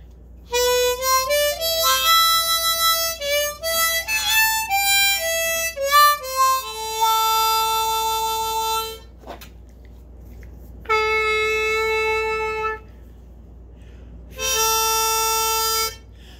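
Melody line from Danny Boy on a paddy tuned harmonica, a run of reedy notes followed by two long sustained tones with pauses between, close and unaccompanied.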